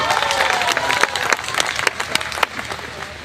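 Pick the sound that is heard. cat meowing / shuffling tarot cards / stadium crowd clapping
stadium crowd clapping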